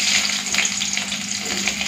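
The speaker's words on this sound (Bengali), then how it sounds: "এখন দিয়ে দেবো পেঁয়াজ কুচি।" Chopped onion sizzles steadily in hot mustard-tempered oil with dried chilli and spices, a close, even frying hiss with no talk.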